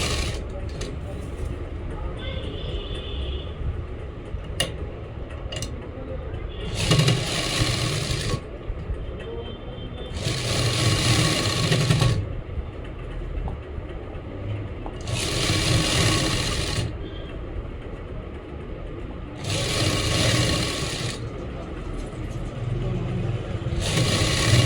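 A sewing machine stitches pleats into a salwar in four distinct runs of a few seconds each, a close buzzing drone under steady nearby talking.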